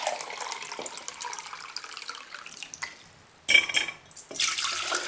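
Water runs and splashes into a measuring jug, a continuous bright gush with a few interruptions and small clinks.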